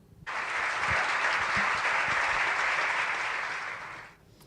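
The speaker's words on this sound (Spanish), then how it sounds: "Vamos a recibirla con un fuerte aplauso." A burst of applause from a talk-show audience welcoming a doctor, steady and full for about four seconds before fading out, with no talking over it.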